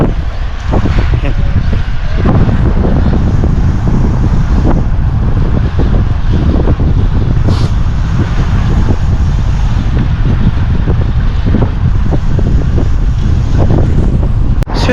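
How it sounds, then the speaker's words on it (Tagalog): Heavy wind roaring across the microphone while riding in a cycling peloton around Portadown, a loud constant buffeting rumble with no clear breaks for the full stretch. "Lalo na ngayon mahangin."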